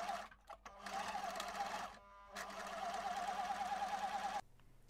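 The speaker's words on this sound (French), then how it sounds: "Surfilez le haut de la poche à la surjeteuse ou au point zigzag sur votre machine à coudre" Sewing machine running a zigzag or overlock stitch along the top edge of a pocket, a steady close mechanical whir in two runs with a brief pause between and a short quiet tail at the end.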